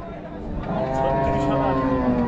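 Cattle at a livestock market in Rajshahi, including a 3.5-maund cross Nepali bull with sharp horns; a drawn-out low moo rises clearly over a busy market background with voices.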